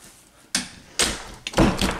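A plastic card is worked into a locked door's latch, giving a few sharp clicks and thuds about half a second apart as the latch pops open, close and clear.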